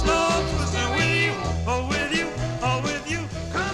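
A vinyl 45 plays, a moderately loud early-sixties pop-soul record with a thumping bass line and sung vocals over steady band backing.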